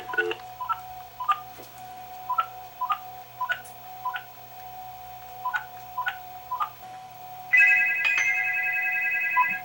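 A phone powered by a rebuilt battery pack made from standard AAA rechargeable cells dials a number, about fifteen quick keypad beeps in an uneven rhythm, followed by a sustained ringing tone at the end.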